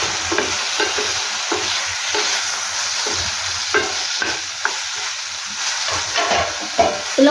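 Green and dried chillies frying in oil for a Rayalaseema roti chutney, a continuous crackling sizzle broken by repeated scraping strokes of a spoon stirring the pan, close and steady with no talk.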